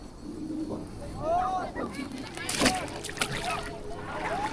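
Water splashing and sloshing in the cold, fast-flowing Calabasa River, close by with intermittent splashes amid bird calls, while voices talk over it.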